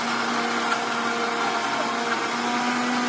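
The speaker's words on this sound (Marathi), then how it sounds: "अभी मिक्सर चालू हो रहा है" An electric mixer grinder runs steadily in a home kitchen, a continuous close whirring motor drone with a constant pitch and no talk over it.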